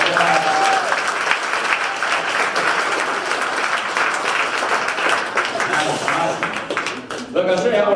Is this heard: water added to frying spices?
no